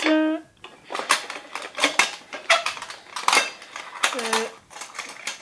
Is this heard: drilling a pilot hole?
no